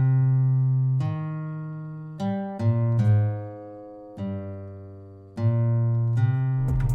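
Synthesized bass line for a guitar-sample trap beat, sustained low tones in a slow pattern of about six notes separated by short gaps, loud and alone with no voices.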